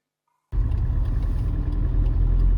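A tractor engine rumbles steadily while towing a trailer carrying a 35 kW generator to a school, starting abruptly after a moment of silence and holding a loud, continuous low drone.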